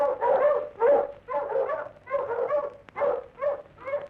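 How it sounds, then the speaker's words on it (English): Several dogs bark loudly and continuously in dense mountain country at midnight, overlapping bursts in an irregular rhythm with brief gaps, close and dominant throughout. "the dogs were barking."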